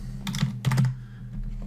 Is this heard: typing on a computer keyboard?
yes